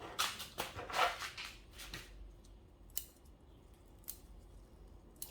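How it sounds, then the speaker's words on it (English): Sharpened bonsai snips trimming a crepe myrtle: several crisp, close cuts in quick succession at the start, then a few sparse single snips in a quiet room. "Snips are going really well."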